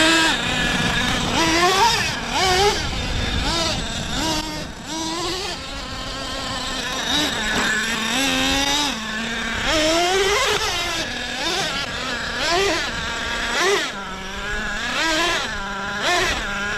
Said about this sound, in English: T-maxxes are hitting the sand.